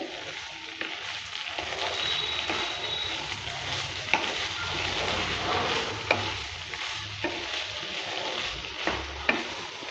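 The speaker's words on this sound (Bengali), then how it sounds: "তুলে নেওয়ার পর আবারও নেড়েচেড়ে নিচ্ছি" Gobindobhog rice, squash and potato cook in a pan, giving a continuous moist sizzle while a spoon stirs and scrapes, with occasional clicks against the pan and no voices.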